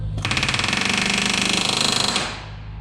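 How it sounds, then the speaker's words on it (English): A pneumatic rivet gun hammers rivets into the aluminium skin of a CAC Boomerang fighter aircraft under restoration: one loud, rapid, continuous burst of chattering blows lasting about two seconds, then it stops. "So the riveting process has been advancing."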